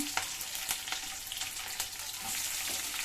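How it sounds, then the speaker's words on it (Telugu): Onion, garlic and curry leaves with cumin and fenugreek frying in oil in a pan, a steady close crackling sizzle with occasional sharper pops, no voices. "ఎర్రగడ్డ కూడా వేసేస్తానండి బాగా అంతా వేయించేసుకోవాలండి"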